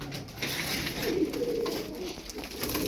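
Pigeons, a flock of fancy flying birds including a crested one, coo steadily in a soft, close, continuous murmur with no talk over it.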